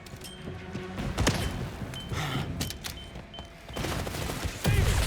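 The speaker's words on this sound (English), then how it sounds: "Deploying stun grenade." A stun grenade goes off in the action video game First Light amid rattling bursts of gunfire. Sharp loud cracks and a heavy blast near the end cut through a busy, noisy firefight.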